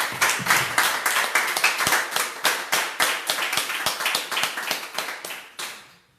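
A church congregation claps together, many hands making dense, loud, steady applause that holds for several seconds, then stops with one last clap standing out at the end.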